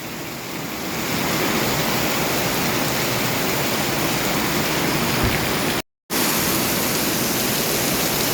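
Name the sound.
heavy rain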